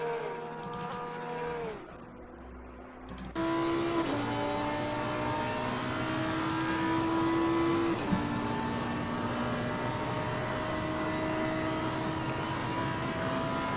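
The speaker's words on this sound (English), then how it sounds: "the big wailing of the V10" A Lamborghini V10 wails in a sim racing game at Mount Panorama, a steady, high, buzzing engine note that dips and climbs through a couple of gear changes before holding a loud, sustained scream.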